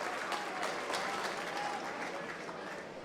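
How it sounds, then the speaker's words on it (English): Wrexham football fans applauding in the stands during a match against Gateshead, a steady wash of clapping from a large crowd that holds at an even level throughout, with a faint voice underneath. "Wrexham fans still applaud the idea, though."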